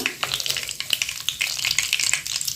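Mustard seeds and sesame sizzle in hot oil with cumin, asafoetida and curry leaves. Dense crackling and popping spatters run fast and bright close to the pan, with brief sharper bursts throughout and no voices.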